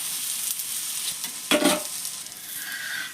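Thalipeeth, a North Karnataka flatbread, frying in extra oil on a pan, with a steady close sizzle throughout and a brief louder crackling burst midway as oil is added around it.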